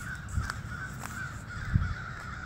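Several crows caw from overhead outdoors near a stadium, a few separate harsh calls over a steady background hum and faint low thumps.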